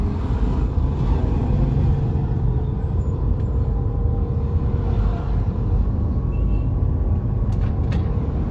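Steady low engine rumble and road noise from inside a moving car, continuous and even throughout with no talk.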